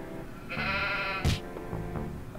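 A cartoonish sheep in a video game gives one loud, drawn-out bleat, followed by a few quieter game sounds.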